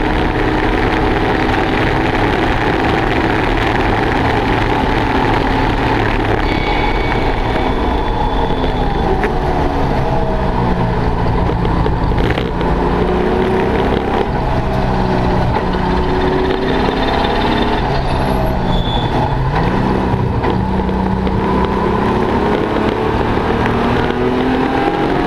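Triumph GT6 race car with a slightly modified 2.5 litre straight six, lapping a track at full throttle, a loud continuous engine drone with rising and falling revs and gear changes, recorded close and steady throughout.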